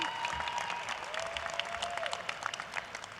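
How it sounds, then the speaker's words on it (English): Applause rises from the crowd at a college commencement ceremony, many hands clapping in a dense, moderately loud patter with scattered sharper claps over about three seconds. "Yep, round of applause."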